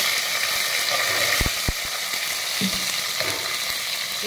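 Onion fries in a pan for tortilla soup, giving a steady close sizzle with a few soft knocks and stirring clatters mixed in.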